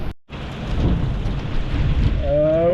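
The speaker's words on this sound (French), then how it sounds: "Là, il pleut de malade." Heavy rain pours steadily during a fishing trip near Sydney, a dense close hiss with low thunder rumbling underneath, briefly cut off at the start before the downpour resumes.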